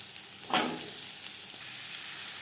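Garlic, onion, green chili and carrot hitting hot oil in a pan after fried lentils, a brief sharp sizzle burst followed by a steady soft frying hiss, close and alone.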